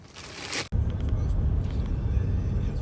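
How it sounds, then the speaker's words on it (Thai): A car driving home from the market, heard from inside as a steady low road and engine rumble after a short hissy burst and an abrupt cut, with a voice faintly present. "ตอนนี้พวกเราก็ขับรถกลับบ้านกันแล้วนะคะ"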